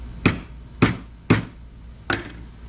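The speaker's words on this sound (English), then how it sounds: "give it a few whacks" Four sharp hammer blows on a bent antique mortise door lock latch, evenly spaced then a short pause before the last, close and loud with metallic ring.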